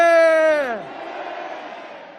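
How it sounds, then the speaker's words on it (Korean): A massed unison "manse" cheer bursts from a Myeongdong rally crowd on March 1st, one strong held shout sliding downward before dissolving into a low murmuring crowd bed. "저와 후보님께서 대한독립 만세를 선창하면 따라해 주시면 되겠습니다"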